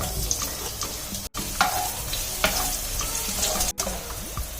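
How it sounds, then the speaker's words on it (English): Garlic and ginger frying in hot oil for sizzling yee mee, a close, steady crackling sizzle with stirring scrapes, briefly cut by two short gaps. "Once the oil in the pan is heated up, we put in the garlic and ginger."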